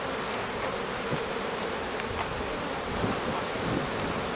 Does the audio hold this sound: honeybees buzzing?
yes